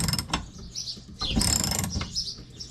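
Unscrewing the water tank beneath a motorhome: a run of close metallic ratcheting and clicking tool sounds in uneven bursts, with faint bird chirps in the background and no talking.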